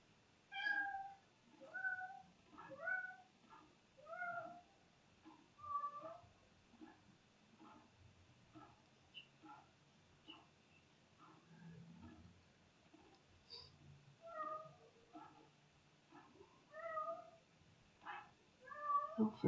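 A cat meows again and again in short, faint calls, some drawn out into plaintive wails, heard from a little distance in an otherwise quiet room over roughly twenty seconds.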